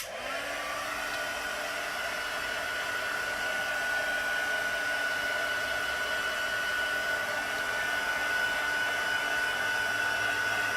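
A handheld dryer blows a steady, even whine and rush of air over paste and inks on a craft project, running close and unbroken throughout with no talking.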